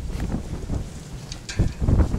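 Strong wind roars and buffets the microphone outdoors in uneven rumbling gusts, surging louder near the end.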